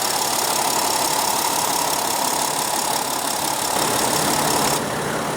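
A 2015 Mercedes-Benz GL350 with a 3.0 L turbo diesel V6 running steadily, a loud continuous engine drone with a faint diesel clatter, no voices.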